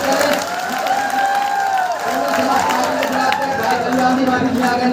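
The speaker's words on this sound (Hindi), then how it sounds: "इनका जोरदार तालियों से स्वागत करें" Loud applause from a large crowd welcoming someone speaker at a community protest rally in Tikamgarh, Madhya Pradesh, a steady roar of clapping and crowd noise mixed with an amplified voice talking over it.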